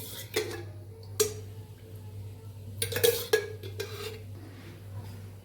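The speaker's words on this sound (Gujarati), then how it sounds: "તો ગેસ ઉપર આપણે કઢાઈ રાખી દીધી છે ને કઢાઈમાં 3 નાના ચમચા જેટલું તેલ ઉમેરશું" A kadai set down on a gas stove with oil added for frying cauliflower, heard as a few clear metallic clinks and knocks over a steady low hum of the burner.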